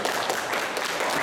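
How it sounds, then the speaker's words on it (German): An audience applauds at a trade-fair stage presentation on setting up a planted aquarium. The dense, steady clapping is close and fills the whole short stretch, with no one talking over it. "Ihr dürft gerne nochmal klatschen für ihn."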